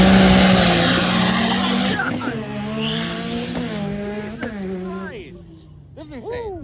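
A Duramax truck or Chevelle car engine roars past close by, loud at first then fading and shifting pitch as it moves away, with people talking over it.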